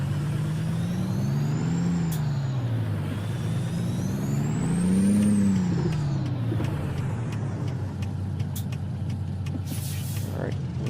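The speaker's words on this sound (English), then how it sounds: "Try to pull a U-turn of this big old long truck." A big, long truck in American Truck Simulator drives and makes a U-turn, its engine droning steadily and rising and falling in pitch as it revs, with an air-brake hiss near the end.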